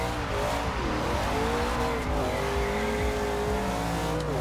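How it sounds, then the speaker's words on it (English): Bumblebee Camaro Z/28 launching and accelerating in Forza Horizon 2, a loud engine roar rising in pitch through the revs with a brief dip at a gear change and some tire noise, continuous with no voices. "Now that I'm on a straight stretch, just give it a little bit of a launch test."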